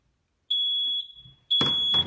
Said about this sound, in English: So now, when it goes into alarm, the internal piezo will go off.